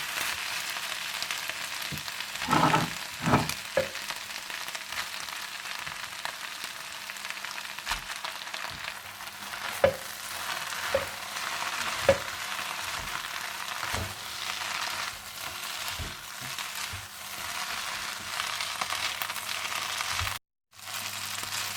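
Boiled egg noodles stir-fried with chicken for chow mein give a steady, moderate sizzle, broken by scattered sharp clicks and scrapes of a utensil tossing the pan, with no talking.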